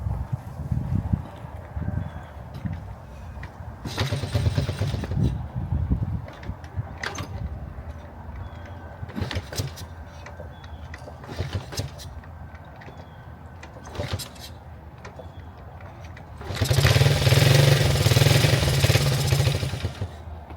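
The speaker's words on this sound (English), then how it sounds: "hooked up my little medicine bottle full of gas here, hooked it up to the carburetor, and get it to start" A small 1974 Honda Z50 Monkey motorcycle engine, fed gasoline from a bottle hooked to the carburetor, sputters into life in a short burst, then fires again in a louder, sustained run near the end, with clicks and handling noises in between.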